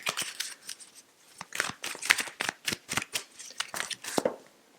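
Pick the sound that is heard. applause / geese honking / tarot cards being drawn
tarot cards being drawn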